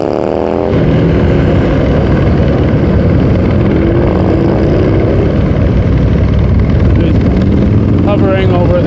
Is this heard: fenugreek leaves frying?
no